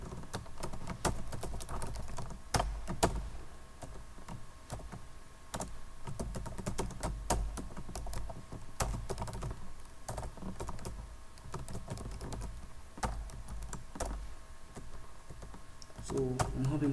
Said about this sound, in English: I'm having problem typing with my laptop keyboard